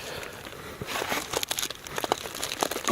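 A crinkly food pouch filled with chili is pressed and sealed shut at a rainy hammock campsite, producing close, continuous plastic crinkling and crackling that builds in loudness over a few seconds with no talking.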